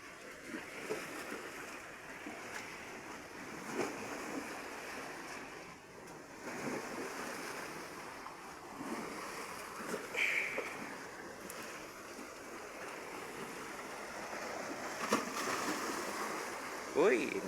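Sea waves wash steadily against a shore in a broad, rushing roar with some wind buffeting, while a person talks over the surf throughout.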